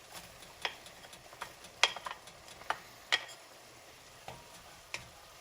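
Six cloves of minced garlic and chopped jalapenos cook with onions for cowboy stew, giving a low steady sizzle broken by scattered sharp clicks and taps of a utensil against the pan.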